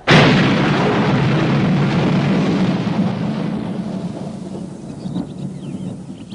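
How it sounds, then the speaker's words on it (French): A sudden, loud thunder-like clap bursts out at once, then rolls into a long, deep rumble that slowly fades over several seconds, with no voices. "les fillettes entendent soudain comme un coup de tonnerre"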